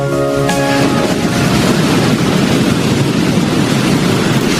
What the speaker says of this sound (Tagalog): Ang ganda ng dagat na ito, no? Ang lalaki nga lang ng alon.